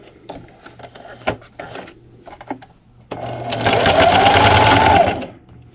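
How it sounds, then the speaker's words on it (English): A sewing machine fitted with a walking foot stitches through layers of flannel quilt fabric, a few light clicks and handling noises, then a steady close whirring run of about two seconds before it stops. "And then I'm just going to run the edge of my fabric with the edge of my presser foot."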